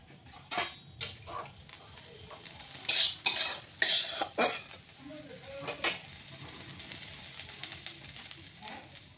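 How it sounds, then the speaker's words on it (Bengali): Bottle gourd frying in a wok, with a spatula scraping and clattering against the metal in several bursts over a low background sizzle, close by and loudest in the early and middle part. "এবার এই কড়াইতে আমি লাউটা বসিয়ে দেব।"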